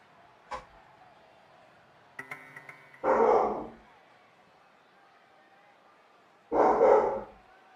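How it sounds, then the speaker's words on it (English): A neighbour's dogs bark in a backyard, two bursts of muffled barking heard at a distance through walls, separated by quiet gaps and a few faint clicks. "I could hear the neighbor's dogs in the backyard"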